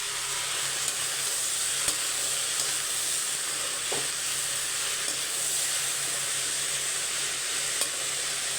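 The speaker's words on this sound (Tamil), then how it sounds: "கோவக்காய் பார்த்தீங்களா நிறைய இருந்த மாரி இருந்தது வதங்க வதங்க எப்படி ஆயிடுச்சு பாருங்கள்" Ivy gourd (kovakkai) sautéing in a pan, a steady close hiss of frying with faint scrapes of stirring, continuous and even throughout with no voices.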